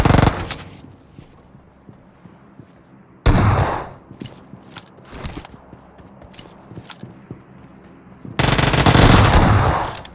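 Loud gunfire bursts in a PUBG Mobile match while knocking down and finishing an enemy, with a heavy volley at the start, another mid-clip, and a sustained burst at the end, separated by quieter footsteps and scattered shots.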